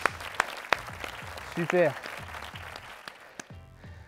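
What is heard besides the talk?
boxing class participants applauding themselves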